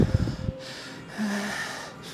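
Heavy, winded breathing from a man resting between sets of a back workout at the gym, a few sharp gasping breaths up close, then quieter panting over room noise.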